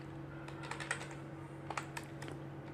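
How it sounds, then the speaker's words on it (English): Computer keyboard typing while entering values in ArcGIS Pro software, a steady run of light clicky keystrokes at close range over a constant low electrical hum, no talking. "Then I will type here"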